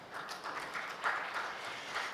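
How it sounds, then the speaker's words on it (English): A fully packed hall at an out-of-home advertising conference breaks into sustained applause, a dense, even wash of many hands clapping with no talk over it. "So a huge round of applause to all of us."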